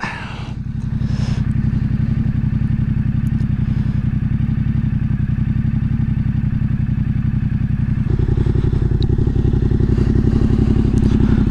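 A Yamaha Ténéré 700 adventure motorcycle with a modified stock exhaust runs steadily nearby, a loud, deep, even engine drone that holds for several seconds and rises slightly toward the end, with no voices.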